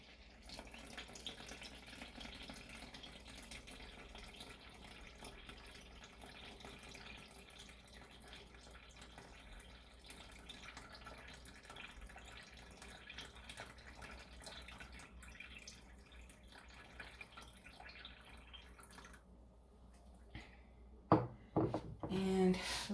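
Vinegar pours steadily from one container into another in a continuous liquid trickle with faint dripping, quiet and close, while a person talks intermittently; a few sharp clunks of the containers near the end.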